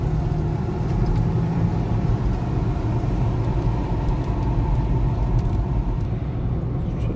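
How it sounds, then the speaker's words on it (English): Jaguar F-Pace 2.0 diesel on a test drive, a steady, continuous low rumble of engine and road noise from inside the cabin, unchanging and fairly loud throughout with no talk. "Just taking on a test drive with the customer."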